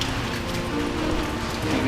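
Steady rain pattering down on vehicles parked outdoors at a homestead, a dense, even hiss of drops on metal and roofs with no pauses, close and fairly loud, no voices.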